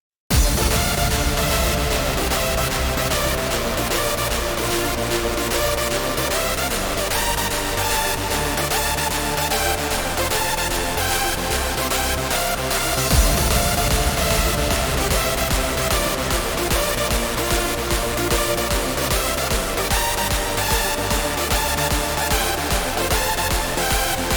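A loud electronic hardstyle track plays continuously, a bright synth melody over a pounding, distorted kick drum, with a brief drop midway.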